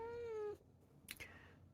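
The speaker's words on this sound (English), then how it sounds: "And there's a cat." A cat meows once, a clear drawn-out tonal call up close, followed by a short soft sound in an indoor setting.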